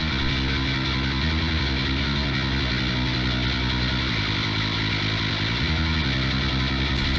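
A gritty, distorted bass guitar through an amp plugin plays a steady riff, thick and buzzing throughout with no pauses.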